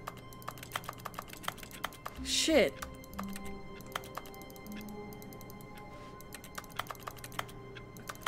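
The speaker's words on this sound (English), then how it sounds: "Why do I make typing noises" Rapid clicky typing on a computer keyboard comes in scattered bursts of sharp taps throughout, joined midway by a brief loud spoken exclamation and faint talk.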